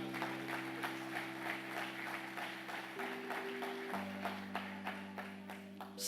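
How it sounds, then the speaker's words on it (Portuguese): Church congregation clapping for the Lord during a sermon, a steady run of many hands over a sustained held organ or keyboard chord, moderately loud and continuous throughout. "Pode aplaudir o Senhor"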